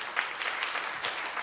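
A conference audience applauds at the close of a panel on migrants in Argentina, a steady wash of clapping that holds throughout without anyone talking over it.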